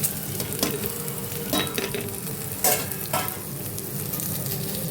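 Cumin, coriander seeds and a little fenugreek frying in hot oil for a tempering, a steady close sizzle with a few stirring scrapes and bursts of crackle, no talk.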